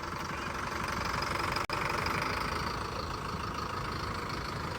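A tractor, a 3630 model, idles steadily right after being push-started, a loud continuous engine chug with one brief dropout partway through and no talking.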